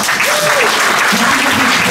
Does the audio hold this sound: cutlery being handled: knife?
no